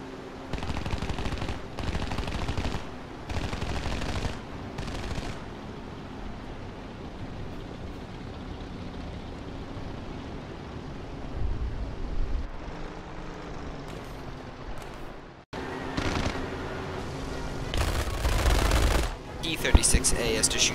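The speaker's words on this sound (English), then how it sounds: "P-36A has to shoot sparingly to conserve his ammo." A P-36A propeller fighter plane fires its machine guns in short, sparing bursts, with several sharp rattles early on and more near the end over a steady engine drone.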